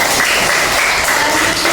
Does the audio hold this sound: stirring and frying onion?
no